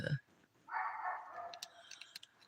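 A neighbor's dog barks a few times at a distance, faint and brief, on a quiet morning with birds nearby and a voice talking softly.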